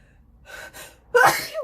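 A quiet sharp inhale or two, then a single loud, explosive sneeze close to the listener.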